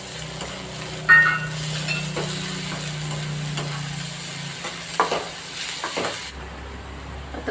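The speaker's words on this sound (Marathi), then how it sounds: "आता मिरची टाकूया मिरची दोन मिनिटासाठी परतून घेऊ" Green chillies and onion sauté in a pan, a constant soft sizzle under occasional clinks and scrapes of a spoon stirring against the metal.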